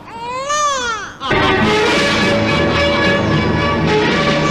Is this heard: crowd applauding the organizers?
no